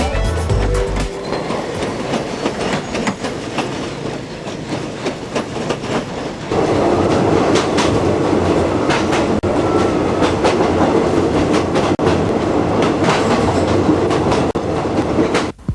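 A narrow gauge train bound for Pattaya, Thailand rolls along with a steady rumble and rhythmic clickety-clack of wheels, heard from inside the car, growing louder partway through and continuing without talk.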